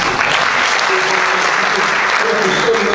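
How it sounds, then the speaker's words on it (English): Conference audience giving a big round of applause to welcome a speaker, dense and steady clapping close by, with a voice speaking faintly underneath. "I want you to welcome him with a big round of applause."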